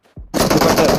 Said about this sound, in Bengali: আরো দাও ফায়ার দাও